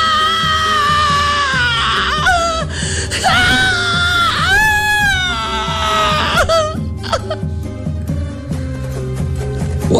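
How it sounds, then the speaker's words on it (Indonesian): A character screams in pain in a Sundanese audio drama, with strained, rising anguished cries and gasps in several bursts over a backing music score. "Wangsih ngejerit nahan ka nyeri."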